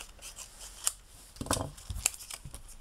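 Scissors cutting paper for scrapbooking: a few quiet, close snips with crisp metallic clicks and a brief papery slice in the middle, sparse and unhurried.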